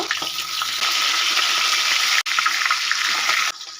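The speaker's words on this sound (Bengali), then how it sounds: "তেলটা খুব ভালো মতো গরম হয়ে গেছে এবার মাথাগুলো দিয়ে দেবো" Hilsa fish heads drop into very hot mustard oil in a kadai and set off a loud, steady, close sizzle. The sizzle cuts out for an instant, then resumes and eases slightly at the end.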